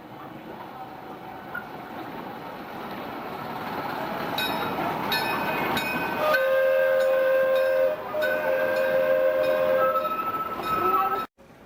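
A train rumbles past in Alaska with a sustained horn blast, a steady tone that breaks briefly and resumes over the clatter of rail cars.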